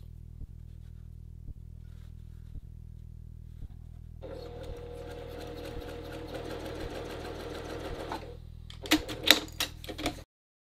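A sewing machine stitches at a steady, close, fast rhythm, anchoring a pleat near the seam allowance on a men's dress shirt, starting midway and stopping with a few clicks and knocks over a low background hum.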